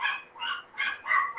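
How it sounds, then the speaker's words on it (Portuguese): A dog barks and yips nearby in four whiny, high-pitched bursts at a steady rhythm. The barks are moderately loud and heard alone without talk. "desculpem pelo cachorro, pessoal, não é meu não"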